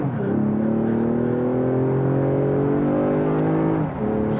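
A car engine revs hard under full throttle, its steady rising drone climbing in pitch, then dipping briefly near the end as if shifting gears.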